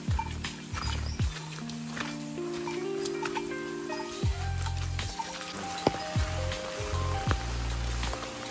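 Steady monsoon rain falls outdoors on a wild, flowering hillside, a continuous broadband patter with a low rumbling hum and occasional louder drips throughout.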